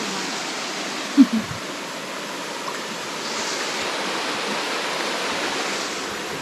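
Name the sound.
Lanka Ella waterfall, Bambarakanda area, Sri Lanka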